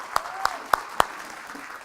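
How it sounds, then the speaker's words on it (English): An indoor audience claps together in four sharp, unison hits spaced about a quarter second apart, each one a crisp, separate smack with quiet room tone between them. "Give yourselves a round of applause."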